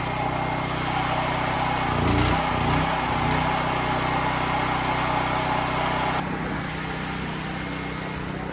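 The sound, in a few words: engine running after switching from propane to gasoline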